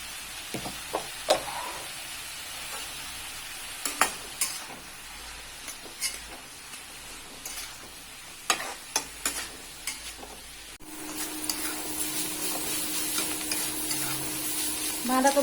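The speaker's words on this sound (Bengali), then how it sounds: "বাঁধাকপিটা হালকা ভেজে নেব" Shredded cabbage with salt and turmeric stir-fries lightly in oil in a kadai, with scattered sharp spoon knocks against the pan, then a louder, steadier sizzle near the end.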